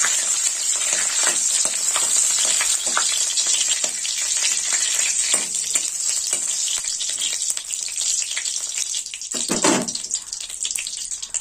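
Two bay leaves tempering in hot oil for a Bengali curd chicken curry give a steady, close, bright sizzle that crackles and spits throughout, swelling briefly near the end, with no talking.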